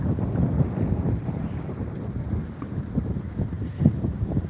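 Wind buffets the microphone in a continuous low rumble, gusting unevenly and covering everything else, at a rollover crash scene on I-76 near Eagle Boulevard.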